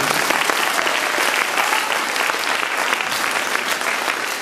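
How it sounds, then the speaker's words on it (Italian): Dense, loud applause from a theatre audience at a math-themed stage show, honoring an actor who plays a sculptor; steady and sustained throughout with no gaps. "E quindi un applauso per chi mi fa piacere."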